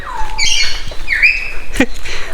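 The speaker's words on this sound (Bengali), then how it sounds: "কত সুন্দর সুন্দর পাখি ওই যে উপরে কতগুলা পাখি কত সুন্দর" Several birds call nearby at a safari park in Gazipur, Bangladesh, with whistled, sliding chirps and squeaks, accompanied by a few sharp knocks.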